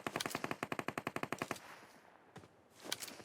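Rapid automatic gunfire from PUBG Mobile, a burst of about fifteen sharp, loud, evenly spaced shots lasting a second and a half, followed by quieter clatter and a faint trailing report.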